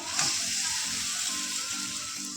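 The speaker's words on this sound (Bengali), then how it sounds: "চালটাকে দিয়ে ওর সাথে ভেজে নেবো কিছু সময় ভেজে নিতে হবে" Soaked rice fries in a pan with cashews for basanti pulao, a soft steady sizzle broken by a few rhythmic stirring scrapes, fairly quiet and close, with no talking.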